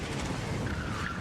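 An Oldsmobile Alero finishing an autocross run at a national Solo II event, engine roaring close by with tires squealing and skidding, loud and continuous for a brief moment.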